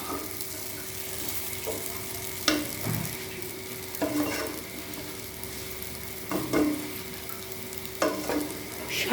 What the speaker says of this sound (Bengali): এবার এটাকে সবজির সাথে ভালো করে মিক্স করে নিতে হবে।